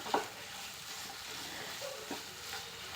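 Bottle gourd pieces are stirred and sautéed with masala and salt in a pan for a Tamil curry, giving a soft continuous sizzle with occasional utensil scrapes and clicks, fairly quiet and close.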